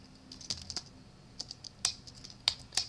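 Quick bursts of key presses on a computer keyboard in a quiet room, several clustered clicks with short pauses between them, close and crisp, no voice.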